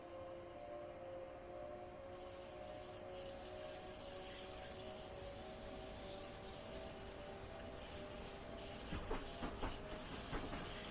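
Class 466 electric train departing for Faversham, heard from on board as a faint steady hiss and motor hum with tonal whine, rising slightly with a few rail clicks toward the end.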